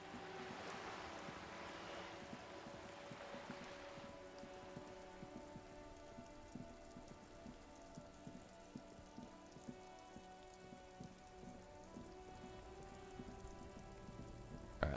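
Steady rain falls in the video game Disco Elysium, a dense, even hiss of drops on surfaces that carries on unbroken throughout with no voices over it.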